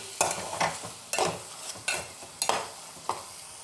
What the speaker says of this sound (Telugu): ఒకసారి కలిపేసి మళ్ళీ మూత పెట్టి ఉడికించుకుందామండి ఇంకా ఉడకాలి